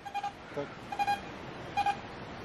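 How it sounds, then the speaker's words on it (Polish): A Vista X metal detector swept over iron in an open field answers with broken, choppy signals: several short clusters of clipped beeps at irregular intervals, with no talking. "mamy taki sygnał łamiący się na żelazo"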